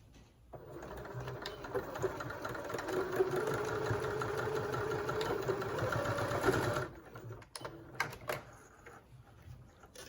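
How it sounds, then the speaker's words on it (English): A sewing machine stitches mitered fabric corners in a steady, close mechanical whirr that lasts about six seconds and then stops, followed by a few quieter handling clicks. "I've sewn each of those mitered corners"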